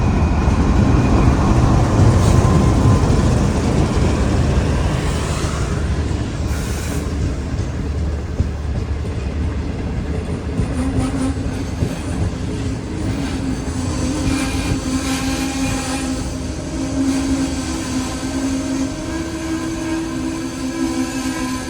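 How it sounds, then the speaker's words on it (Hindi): The Green Line Express rolls into a station and comes to a halt on a Nawabshah to Karachi route, a loud close rumble of wheels and carriages with high squeals of braking wheels that fade as it slows and stops. "ठीक 2:15 बजे ग्रीन लाइन एक्सप्रेस हमारे सामने आके रुकी है।"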